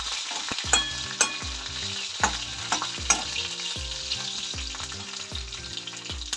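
Ginger, garlic, Byadgi chillies and coriander seeds fry in hot oil, a steady sizzle broken by repeated scraping stirs of a spoon against the pan, close and fairly loud, with no voices.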